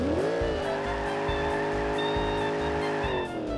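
A Lamborghini Veneno in the driving game BeamNG.drive revs loudly with a high engine whine that climbs and settles, with repeated gear-shift dips and a brief tire squeal.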